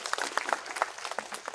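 Students at a career guidance session break into a short round of scattered clapping, individual claps audible within a thin, moderately faint burst of applause.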